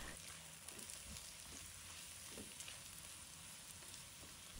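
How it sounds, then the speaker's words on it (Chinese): Shiitake mushrooms stir-fried in a wok with green and red peppers and scallion pieces, giving a steady, faint sizzle with light scraping as the ingredients are tossed; no one speaks. "再把葱段放入锅中， 继续翻炒一下。"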